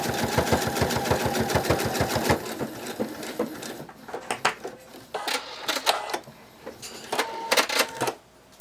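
A sewing machine stitching the seam of a bunny plush, starting with a fast, loud, regular run of needle strokes, then breaking into short stop-start bursts with pauses as the fabric is adjusted.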